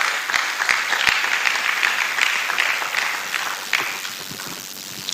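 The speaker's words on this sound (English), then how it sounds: "Please, a round of applause for Kelechi Deka." An audience at an Igbo conference applauds as speaker Kelechi Deka comes up, a burst of many clapping hands with distinct sharp claps that gradually thins and fades toward the end.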